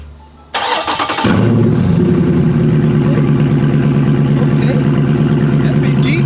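A stock Chrysler 300 car is started cold: a brief starter crank catches and the engine settles into a loud, steady idle close by, with no talk over it.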